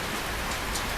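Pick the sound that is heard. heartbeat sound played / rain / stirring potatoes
rain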